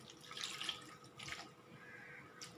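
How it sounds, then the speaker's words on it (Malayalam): Water pours into a pan of jackfruit-seed and prawn curry, a faint, close trickle and splash that comes in a couple of short bursts over a quiet background. "ഞാൻ അത്യാവശ്യം വെള്ളം ഒഴിച്ചിട്ടുണ്ട്"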